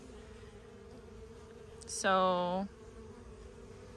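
Honeybees buzz in a low, steady hum around the hive as they fight off invading bees, with a single short spoken word cutting in partway through.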